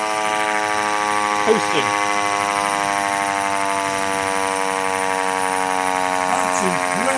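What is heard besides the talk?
Federal Signal C5LB American police siren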